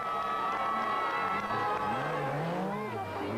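A large roadside crowd cheers as Markku Alén's Lancia Group B rally car passes at the 1986 San Remo Rally, engine note rising over the steady crowd noise.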